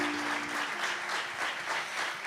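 An audience at an acoustic music session applauds, a dense sustained burst of many clapping hands at steady, fairly loud level throughout, with a faint tonal hum underneath at the start.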